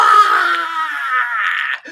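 A voice imitates a mother's over-dramatic scream, one loud, drawn-out wail held for nearly two seconds and then cut off.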